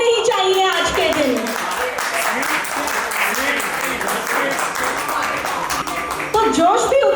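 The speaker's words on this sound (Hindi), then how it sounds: "तालियां रुकनी नहीं चाहिए आज के दिन।" An audience claps continuously at a 1995 school batch reunion, dense applause running the whole time while a voice speaks over it at the start and end.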